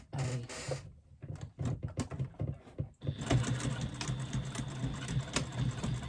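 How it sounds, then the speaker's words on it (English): A sewing machine top-stitches a pocket lining for a retro clutch bag, running in short bursts of rapid mechanical chatter, then pausing before settling into a longer continuous run up close. "using a nice little top stitch along the bottom of the pocket at 1/8 of an inch"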